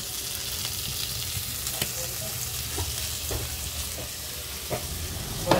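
Food frying in a pan during a farm feijoada lunch, a steady close sizzle with repeated spoon clinks and stirring scrapes spread across the clip.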